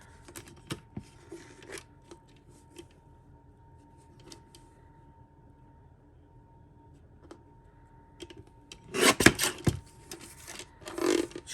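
A paper matte layer is trimmed for a stamping project: faint, sparse scratching and rubbing at first, then a louder cluster of cutting and scraping strokes toward the end, with no voices.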